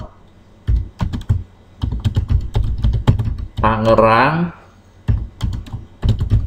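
Fast keystrokes on a computer keyboard as text is entered in Microsoft Word, clicking in close bursts with short pauses, while a voice speaks over the typing.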